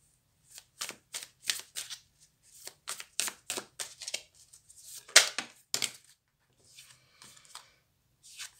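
Tarot cards shuffled by hand during a reading, a run of quick crisp riffling bursts and soft slaps, close and clear, with pauses between shuffles and no talk.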